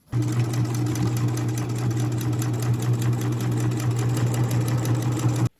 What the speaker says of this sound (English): we need to take this to the sewing machine and just sew a 1/8 inch line right down here on both sides